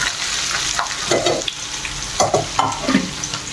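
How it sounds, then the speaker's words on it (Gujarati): Curry leaves and chili go into hot oil for a Gujarati tempering, a steady close sizzle with brief crackling bursts and stirring as the spices fry. "અને થોડુંક લીમડો અને મરચું ને એવું બધું નાખી અને વઘારી નાખીશ તેને"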